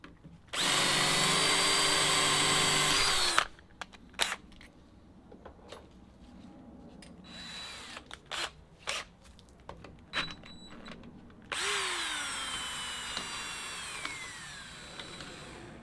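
Power drill boring a hole into a square body crew cab truck, a loud whining burst lasting a few seconds, then clicks and handling noises, then a second steadier drilling run near the end.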